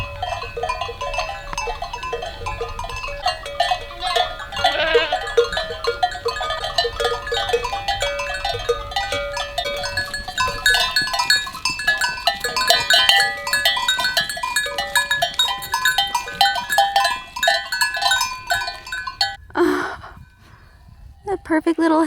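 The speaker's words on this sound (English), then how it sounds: "You can hear the goats clanking with their collar bells," Many metal collar bells on a herd of goats clank and jingle continuously nearby, ringing in an uneven, overlapping pattern, echoing from a valley on Naxos, Greece.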